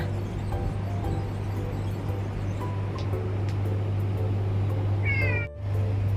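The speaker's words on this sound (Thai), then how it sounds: "แมวรุ่นแรกๆ ของแม่กิ่งเลยนะคะ" Several cats meow outdoors at a home over a steady low hum, with short calls scattered through the stretch and a clearer, louder meow near the end.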